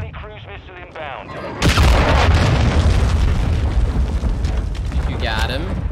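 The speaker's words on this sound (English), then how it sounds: "Friendly cruise missile inbound." A cruise missile detonates in Call of Duty: Modern Warfare 2 ground war, a loud deep boom cutting in abruptly and rolling into a sustained rumble of debris and distant firing, with game voice chatter heard before and after it.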